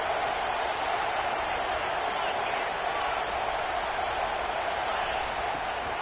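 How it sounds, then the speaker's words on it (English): A stadium crowd at a Mississippi State versus Texas A&M college football game gives a steady, distant roar that holds at an even level throughout, with no pauses. "This crowd knows when to bring it."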